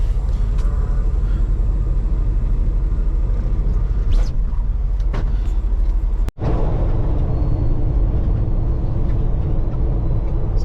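A semi truck rolls down the road on the way to a truck stop, its loud, steady low rumble and road roar continuous throughout, with a brief dropout near the middle before the drive noise resumes.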